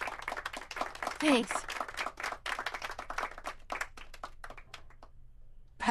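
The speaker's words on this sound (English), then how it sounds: "Round of applause, everyone." Applause in the video game The Walking Dead 400 Days, a small group of people clapping steadily and fairly close, fading toward the end, with a brief word spoken over it.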